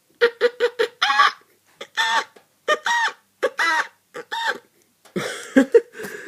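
A person imitates a chicken up close, with a run of short clucks followed by longer, drawn-out squawking calls in uneven bursts.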